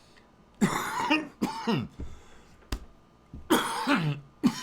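A man coughs in several rough, hacking bursts at close range, with a brief spoken word in between.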